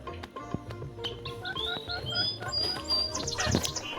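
Chickens in the Meena video game, a few clucks and fowl calls over a busy mix of game sound effects and chimes, moderately quiet with no talk.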